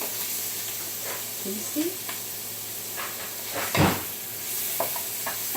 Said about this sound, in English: So over here in this pan, I'm sauteing my onions.